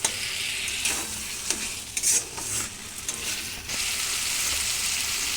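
Salt and sugar stirred into frying spices in a pan, with a continuous crackling sizzle broken by repeated scraping strokes of a spoon against the pan, close and fairly loud.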